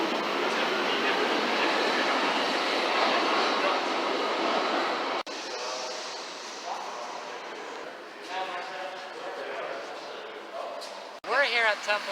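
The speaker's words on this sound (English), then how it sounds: "Riding the subway in Berlin is a unique experience" A Berlin U-Bahn subway train rumbles and clatters along the track, a loud steady roar for about five seconds that drops to a quieter rattling ride with faint squeals and a brief voice near the end.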